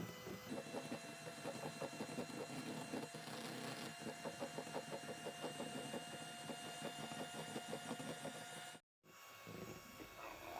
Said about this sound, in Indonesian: Lalu ini kita mixer hingga mengembang putih,